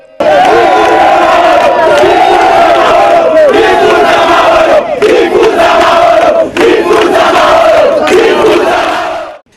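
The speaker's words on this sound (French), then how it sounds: "une foule qui scandait le slogan « Nous voulons la paix, nous voulons la paix »" Large crowd of protesters chanting a slogan for peace, loud rhythmic repeated phrases with brief dips between repetitions, close and continuous.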